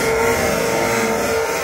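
Kawasaki ZX-10R sport bike fitted with an SC Project S1 exhaust, revving hard at close range in a loud, continuous roar with rough crackling texture, no voices over it.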